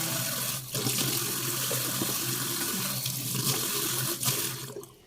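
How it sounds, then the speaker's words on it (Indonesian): Long beans are washed under a running tap in a kitchen sink, with a steady, close splashing stream and a few brief dips as the beans move through the flow. "kemudian kita cuci bersih kacang panjangnya"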